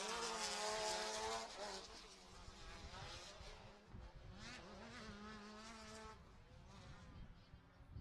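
Off-road buggies racing side by side at Lake Elsinore, their engines a continuous buzzing, wavering whine with shifting pitch as they run together, heard at a distance.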